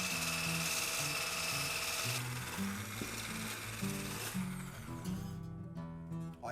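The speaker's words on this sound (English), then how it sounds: "now we're going to beat the egg whites using a hand mixer on high" A single-speed hand mixer whirs on high while beating egg whites until frothy. Its electric motor whine holds close and fairly loud, with shifting pitch and a rattling, uneven buzz as the beaters move through the bowl.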